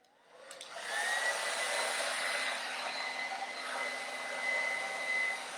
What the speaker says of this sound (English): I know blow drying is kind of like watching paint dry.